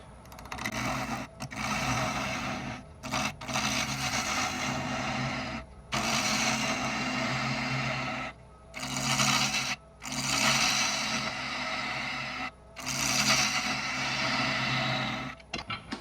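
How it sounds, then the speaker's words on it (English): Half-inch bowl gouge cutting into a spinning wood blank on a lathe while turning a closed form, a rasping, scraping whir in repeated bursts of a few seconds separated by short pauses. "And we'll use a half-inch bowl gouge. We'll just start to work our way into it."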